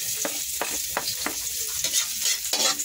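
Garlic hits hot cooking oil and sizzles steadily at close range for pancit bato, a constant frying hiss broken by a few soft clicks of stirring.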